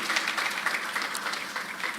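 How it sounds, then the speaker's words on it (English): Audience applause at an agricultural business conference, a steady, moderately loud wash of clapping from a crowd with no pause. "Please clap for him once again."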